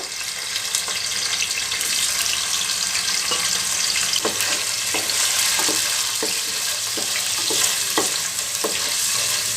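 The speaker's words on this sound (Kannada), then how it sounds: "ಎಣ್ಣೆ ಬಿಸಿ ಹಾಕ್ತಾನೆ ಪನ್ನೀರ್ ಸ್ವಲ್ಪ ರೋಸ್ಟ್ ಮಾಡ್ಕೊಳ್ತೀನಿ" Paneer roasts in hot oil in a pan for methi paneer gravy, a steady loud sizzle and crackle with occasional soft stirring taps, close up and without talk.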